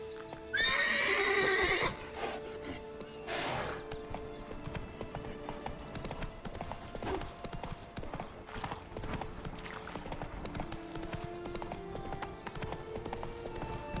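Horse in the Witcher 3: Blood & Wine video game, a brief whinny near the start followed by steady galloping hoofbeats under in-game music.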